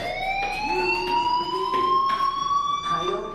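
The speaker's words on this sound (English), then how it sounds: "do you hear that fire alarm? That means you should be outside" School fire alarm ringing in the video game Life is Strange, a sustained electronic tone with rising pitch and overtones, loud and steady, with a faint voice underneath.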